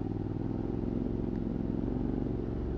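A Triumph Scrambler motorcycle rumbles steadily along a dirt byway, engine drone close and loud throughout with a constant low throb and no talking.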